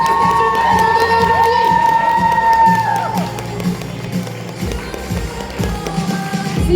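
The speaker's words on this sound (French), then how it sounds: "On les applaudit encore une fois très très fort." At a roleplay contest and prize-giving, an audience cheers and shouts with scattered clapping, a loud, busy crowd roar with whistles and shrill voices rising over it, close and sustained throughout.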